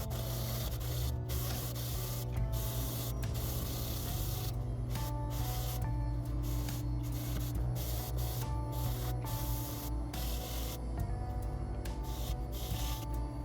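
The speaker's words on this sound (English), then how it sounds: "now the footage you're about to see is me sanding it down" Body filler is sanded on a Mazda 6 quarter panel, a steady, close, loud abrasive hiss with a constant motor hum running throughout, unbroken and with no talk.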